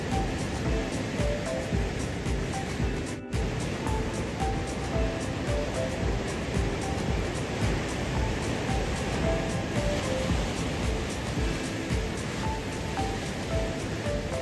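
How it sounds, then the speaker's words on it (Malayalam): Sea waves crash at Tunnel Beach near Dunedin, New Zealand, a loud, continuous roar of surf with rolling swells and no voices. "കടലിങ്ങനെ ആർത്തിറമ്പിക്കൊണ്ടിരിക്കുകയാണ്"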